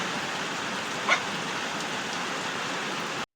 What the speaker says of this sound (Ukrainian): обід, а в нас знову дощик, слава Богу